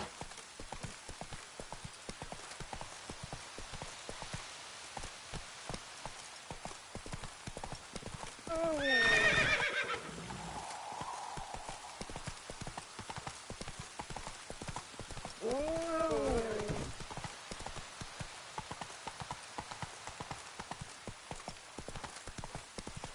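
Hooves of the horse Roach beat in a steady rapid clip-clop throughout a Witcher 3 ride over faint rain, with two loud whinnies breaking through partway along.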